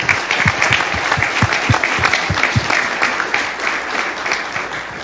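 Audience at a leadership breakfast on intelligence reform applauding sponsors: steady, dense clapping throughout, fairly loud and close, with a few sharper individual claps standing out near the start and no speech over it.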